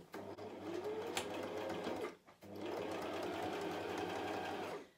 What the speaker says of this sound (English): I want to sew quite close to that edge, so I've got plenty of room to slide my book into